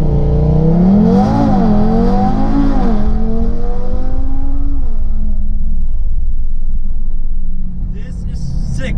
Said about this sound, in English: I never drove a TTRS before with 660 horsepower.